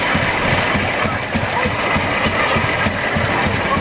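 A 1920 Rumley OilPull tractor, an antique steel-wheeled tractor in a Fourth of July parade, runs with a steady, loud, rough chugging engine rumble throughout, close by.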